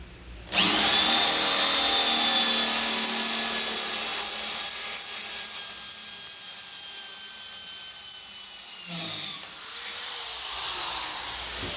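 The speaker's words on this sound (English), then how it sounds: "I'm just going to go ahead and drill this out with the 23/32 bit and not use the pilot bit" A power drill with a 23/32 bit bores a hole through a steel S10 truck frame for a 48 Chevy cab mount, a loud steady high whine for about eight seconds before it slows and stops.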